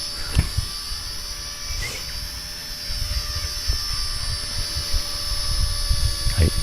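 K110S radio-controlled helicopter hovering nearby, a steady high-pitched motor and rotor whine holding constant tone, with faint speech and small bumps underneath.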